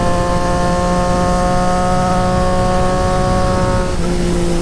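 A Triumph Street Triple motorcycle with a Racefit Growler straight-pipe exhaust holds a loud, steady engine drone at constant speed, then the pitch dips slightly near the end, with rushing wind noise throughout.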